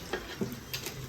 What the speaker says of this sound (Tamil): இப்போ வாழைக்காய் பச்சி போடுறேன்.